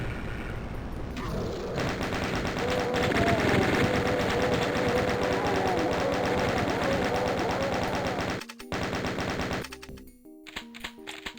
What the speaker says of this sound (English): I feel like maybe I should actually use the chain gun for this